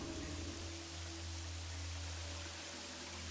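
Rain falls steadily in the Myst V: End of Ages game world, a soft, even hiss with a low hum beneath, faint and unbroken with no talk.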